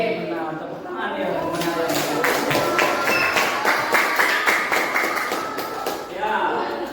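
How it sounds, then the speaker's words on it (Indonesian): A group of people clapping in a classroom-like setting, a dense stretch of fast hand claps that swells in the middle and fades near the end, with voices speaking over it. "Benar, tepuk tangan ya"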